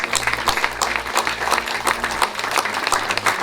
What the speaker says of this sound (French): Je vous demande de bien vouloir applaudir monsieur